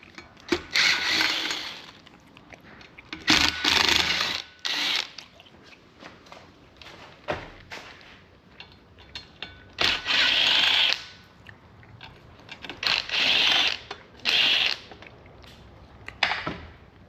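Four screws being removed from the cover plate of a Pittsburgh 3 ton floor jack, with close bursts of whirring, ratcheting driver noise separated by quiet pauses.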